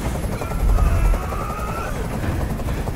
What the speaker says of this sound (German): Ich halte diesen Krach nicht mehr aus. Dieser Helikopter soll verschwinden.